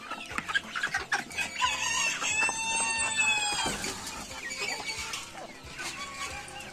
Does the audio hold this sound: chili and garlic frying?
no